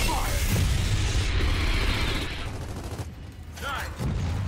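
Gunfire in Gears of War 4 during a fight to shoot exposed blisters on a core, heavy sustained shooting and booms that thin out partway, then return, with a voice talking over parts of it.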